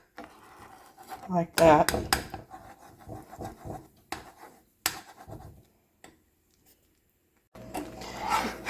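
A utensil scrapes and clatters against the sides of a pan of homemade gravy in a series of short, sharp metallic strokes, with someone talking briefly between them and a hiss rising at the end.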